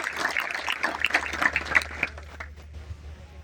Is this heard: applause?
yes